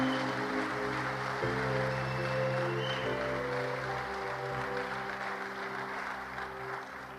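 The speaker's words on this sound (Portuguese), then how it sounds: "Uma salva de palmas ao Senhor." Congregation in a church applauding, a steady wash of clapping heard alongside sustained keyboard or organ tones, holding fairly even throughout and easing slightly at the close.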